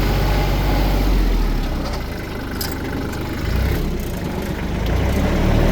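A Kubota L3400 tractor engine runs steadily while backing into a shop, a loud close diesel rumble that dips slightly and swells again, with no voices.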